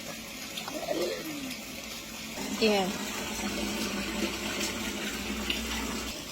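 Water from a free public tap pours into bottles, a continuous splashing flow at close range, its pitch rising briefly as a bottle fills, while a person speaks a short word.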